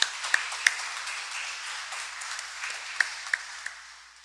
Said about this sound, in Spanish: Le damos el aplauso de felicitación.